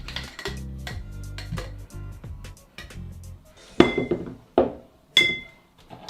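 A cocktail shaker holding two big ice cubes is banged to separate it, giving a few sharp metallic clanks and rattles after some quieter handling clinks.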